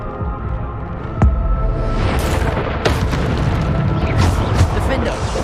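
Bombarda exploding spells boom repeatedly in a Harry Potter game on PS5: deep, loud blasts over a constant rumbling bed, with a voice talking throughout.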